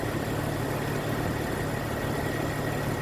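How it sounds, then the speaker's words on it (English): A vehicle's engine idles steadily during an alternator charging voltage check, a continuous low hum with a constant rumble that holds even and alone throughout. "So the vehicle's running"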